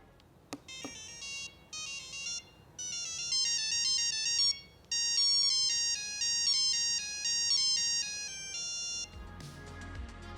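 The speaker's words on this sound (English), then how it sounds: "The ringtones were gloriously monophonic" A monophonic ringtone from a 2001 Motorola V60 phone plays a bright, beeping melody of single notes, clear and fairly loud, then cuts off with a brief rustle.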